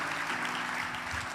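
An audience at a church sermon claps and cheers in a dense, steady wash of noise that continues without a break, with faint voices underneath.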